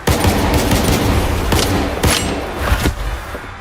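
Bursts of gunfire ring out in STALKER 2, repeated loud shots in rapid clusters over a noisy combat background, close and harsh, with no talking.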